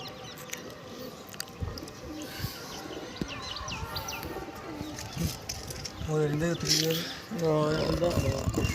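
Pigeons coo in low, rolling bursts near the end, over steady background chatter and other bird calls; people talk throughout.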